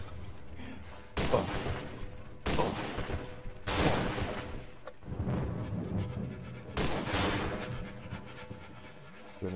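Gunfire in the co-op horror video game Cry of Fear, several loud, sharp blasts spaced about a second apart with reverberant tails, over a low background game soundscape.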